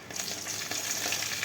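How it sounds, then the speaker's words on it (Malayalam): Mustard seeds splutter in hot oil in a pan, a dense, loud crackle and sizzle of quick pops running continuously and close up, with no talking. "കടുകിട്ട് പൊട്ടുന്നു"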